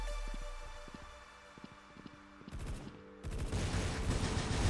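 Gunfire from a newly added gun in the shooter game Truy Kích: a few sparse single shots, then dense rapid bursts of automatic fire that grow louder and continuous near the end.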